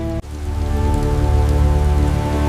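Heavy rain pours down in a desert, a dense continuous hiss of drops on surfaces that stays loud and unbroken after a brief dip at the start, with a sustained low tonal hum underneath.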